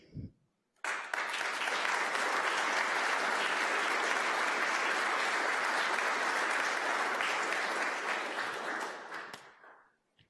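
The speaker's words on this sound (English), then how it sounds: "be extra generous in your applause for all the wonderful people and groups who've won these awards" A large audience at the City of Santa Rosa Merit Awards breaks into sustained, steady applause that fills the room for several seconds before tapering off.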